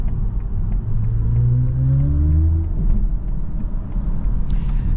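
A BMW i4 M50 electric sedan, 536 hp, accelerates hard from inside the cabin, its motor whine rising steadily in pitch over a constant road and tire rumble, fairly loud and with no talking.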